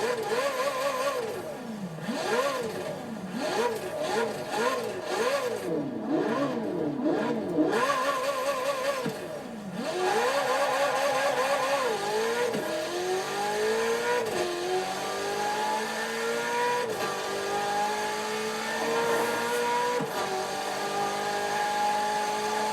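Twin-turbocharged 3.9-liter V8 of a Ferrari 488 GTB in Forza Horizon 4, loud and close, revving up and down in rapid repeated sweeps, then pulling through long rising gear changes at high revs.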